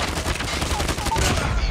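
Rapid bursts of HG-40 submachine gun fire in a first-person shooter video game, loud and continuous across the whole moment, with faint talk underneath.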